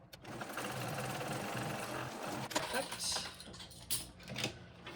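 A sewing machine stitching a backpack seam runs in a fast, steady mechanical whir, close and fairly loud, then stops and starts in short bursts near the end while a person talks over it.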